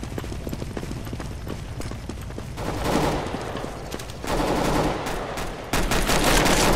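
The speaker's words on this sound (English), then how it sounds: "Throw in the flashbang!" Gunfire crackles in Counter-Strike: Global Offensive as a flashbang grenade goes off, with rapid bursts of shots and louder blasts that jump in volume over a steady game background.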